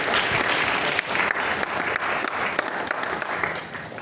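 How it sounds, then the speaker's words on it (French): A theatre audience at the Centre Wallonie Bruxelles gives a loud, sustained round of applause, dense and even throughout. "Je voudrais qu'on nous applaudisse"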